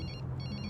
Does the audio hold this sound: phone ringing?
yes